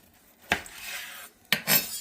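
A knife cuts a piece off a smoked BBQ beef brisket in two short, close scraping strokes, each a sharp onset followed by a gritty rasp, with near silence around them.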